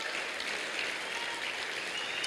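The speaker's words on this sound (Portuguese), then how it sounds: "Você pode dar um aplauso a Jesus, esse Deus." A congregation claps steadily for Jesus during a church service, a brief, even wash of applause without pauses.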